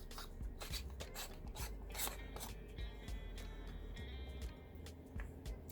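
Herbs ground in a Cigamate hand grinder, a steady gritty rasping and rubbing that runs the whole time with small scraping bursts, close up and fairly quiet, with no talking.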